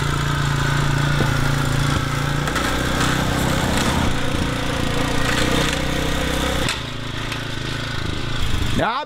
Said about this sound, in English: I have never been interrupted by a lawnmower.